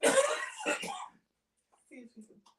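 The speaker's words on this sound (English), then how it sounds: "I will cough occasionally." A person with COPD coughs and clears their throat in a loud, harsh burst lasting about a second, followed by quieter rasping breaths and small throat sounds, close and indoors.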